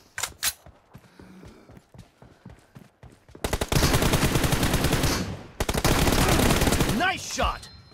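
Video game gunfire: a few scattered shots and mechanical clicks, then two long, loud bursts of rapid automatic fire, close and dense, with a brief gap between them.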